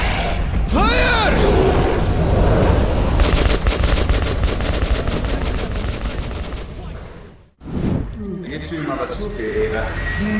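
Gunfire in Wolfenstein II: The New Colossus, a first-person shooter, sounds as loud, dense bursts of automatic fire layered with mechanical clatter and booms, briefly dropping to near silence before the chaotic combat noise resumes.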